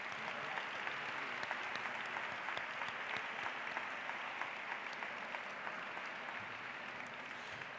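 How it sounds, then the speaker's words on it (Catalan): An audience applauds at a university graduation ceremony in a hall, a sustained, even wash of many hands clapping at moderate distance for several seconds. "Un aplaudiment, si us plau."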